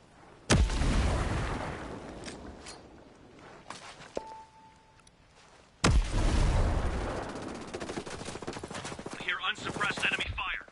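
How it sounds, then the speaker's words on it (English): Gunfire and a grenade blast in the Ghost Recon video game: a sharp loud burst near the start, then another heavy impact midway followed by rumbling fire, with a brief tone and some chatter-like noise toward the end. "Grenade, take cover!"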